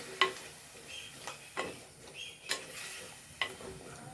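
Whole green chillies, uncut and unslit, stirred in a frying pan for kurukku kalan, with faint sizzling broken by several sharp spatula clinks against the pan at irregular intervals, quiet and close.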